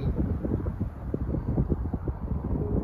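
Strong wind buffets the microphone in continuous low rumbling gusts on a cloudy day in Albuquerque, New Mexico, loud and close, with no voices.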